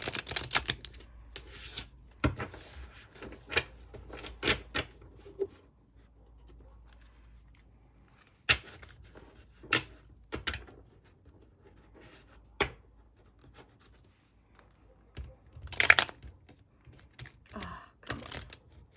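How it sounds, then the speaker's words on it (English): Light Seers Tarot deck being shuffled by hand at close range, with bursts of crisp card riffles and taps separated by brief pauses, repeated several times across the stretch, no talking. "Gonna give this a few good shuffles."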